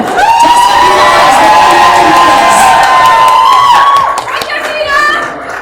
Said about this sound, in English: And a big round of applause on that note.